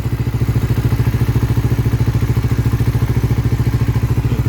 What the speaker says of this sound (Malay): Okay, ni bunyi enjin. Senyap macam baru lagi, macam baru keluar kilang.